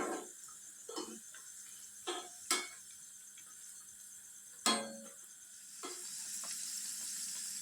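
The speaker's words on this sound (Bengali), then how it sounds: "আবারও দিয়ে দিলাম, আবারও ভেজে নিচ্ছি সবকটাই।" Vegetable-stuffed snacks frying in a pan: a soft, continuous sizzle broken by several sharp clinks and scrapes of a utensil against the pan, growing a little louder toward the end, with no one talking.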